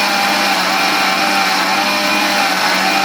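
A mixer grinder grinds sautéed onion, tomato, ginger, garlic and masala for a chicken curry, giving a loud, steady, continuous whirring motor roar that holds unbroken throughout with no talk.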